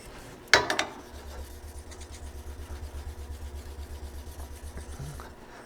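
A woodturning spindle gouge is sharpened by rolling it against a grinding wheel, giving a sharp initial contact followed by a steady, rhythmic pulsing rasp at close range.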